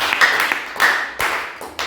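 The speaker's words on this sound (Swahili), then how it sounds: "Pigia Yesu makofi." A church congregation claps for Jesus during a sermon, a loud close burst of rhythmic hand claps with uneven beats.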